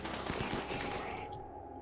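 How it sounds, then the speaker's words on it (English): Colonist gunfire aimed at a ship in the RimWorld video game: rapid crackling shots burst out over the first second, then thin out over a steady low hum, with no talking. "we'll get Green to fire at the ship"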